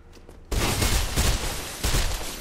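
An LMG machine gun fires in the video game Mirror's Edge, unleashing loud, dense sustained bursts of rapid gunfire that rattle on close-up with a brief break before another burst.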